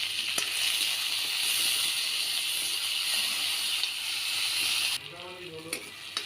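Ginger and garlic frying with tomato in a pan, a continuous loud sizzle and hiss that drops away near the end as stirring sounds come through.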